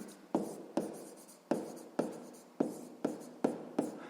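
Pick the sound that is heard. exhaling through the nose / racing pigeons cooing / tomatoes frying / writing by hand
writing by hand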